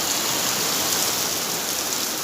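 A heavy downpour drums steadily, with rainwater pouring off a rooftop in a loud, continuous, dense wash of noise that stays constant throughout.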